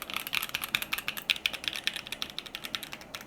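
Steady, fairly quick typing on a keyboard fitted with double-shot PBT keycaps from the WS Stellar set. Crisp, clacky keystrokes come close up and alone, with no voices.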